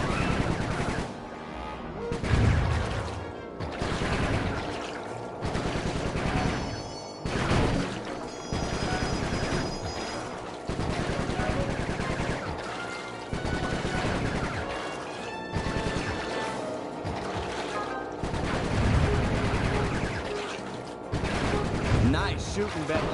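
Gunfire in the video game Sly 3: Honor Among Thieves, sharp repeated shots and crashing impacts in bursts over a steady game soundtrack, fairly loud throughout.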